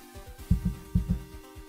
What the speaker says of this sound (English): my heartbeat keeps getting louder